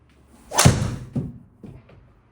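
One solid whooshing impact of a golf driver striking a ball during a driver test, close and loud, followed by two softer thuds fading away.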